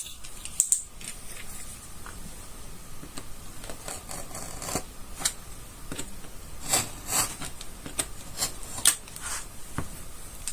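A cut leather edge is ground smooth, giving soft, irregular rasping and rubbing strokes with a few sharper scrapes, close and fairly quiet with no talking.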